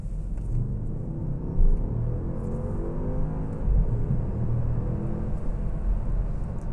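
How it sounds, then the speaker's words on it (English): A 2013 Audi S6 accelerates on a street, a low, steady engine rumble heard from inside the cabin, fairly quiet and muffled, with slight swells in the drone as speed builds. "I'll give you a couple of ideas about acceleration in this vehicle."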